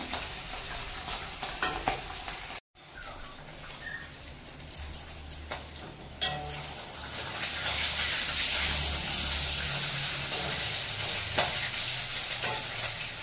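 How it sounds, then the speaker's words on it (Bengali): Hilsa fish frying in hot oil, a close, steady sizzle with spatters and a few utensil knocks; the sizzle swells louder in the second half. "হালকা করে মাছগুলোকে ভেজে নিতে হবে"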